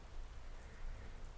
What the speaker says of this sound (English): I've always liked the rain.